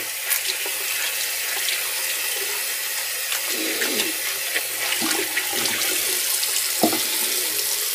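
Running tap water during a rinse after a wet shave with Stirling shaving soap, a steady broadband rush that persists throughout with a few brief clatters and splashes, and no talking.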